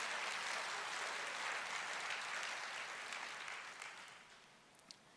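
A church congregation applauding during a sermon, a broad wash of many hands clapping that stays steady and then slowly fades out.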